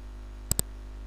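A computer mouse gives two quick, crisp clicks in close succession during a Kruti Dev to Unicode font conversion on a PC, faint and isolated against quiet room hiss.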